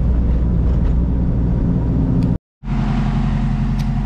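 A turbocharged H2B-swapped Honda EG engine runs loud and close with a steady low drone, cut by a brief total dropout near the middle before the same roar resumes.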